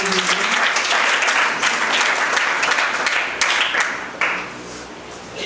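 Church congregation applauding in praise during a French-language Sunday service, a dense, steady wash of many hands clapping at close range, thinning slightly toward the end with no talk over it.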